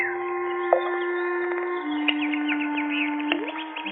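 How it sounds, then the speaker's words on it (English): Birds chirp by a fish pond at sunset, bright short calls scattered over a steady hum, with sharper chirps popping up toward the end. "birds playing in the fish pond"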